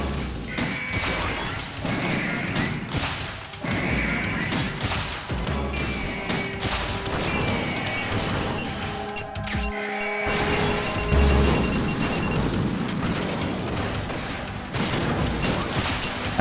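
Missiles exploding in Metal Gear Solid 2 on PS2, a steady barrage of crashes, thuds and blasts layered over continuous game noise, with a sharp gap partway through before the bombardment resumes.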